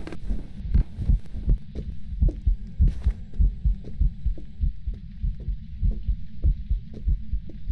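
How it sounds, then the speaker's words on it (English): Heartbeat sound effect from the horror video game Phasmophobia thumps steadily and loudly in a regular double-beat rhythm, close and alone, with a brief higher burst partway through. "How do I hear the heartbeat from..."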